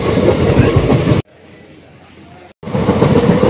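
A train rumbles loudly into platform 2 at Dhulian Ganga station, its steady roar cutting to a quiet stretch mid-way and then returning just as loud, with no one speaking.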